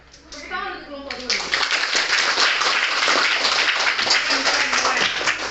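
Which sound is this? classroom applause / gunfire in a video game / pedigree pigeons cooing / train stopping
classroom applause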